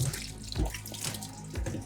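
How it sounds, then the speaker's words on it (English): Water runs from a tap over a filled beer container, rinsing it near a keg filling setup; a steady close splashing flow with no talk. "So then you give it a quick rinse,"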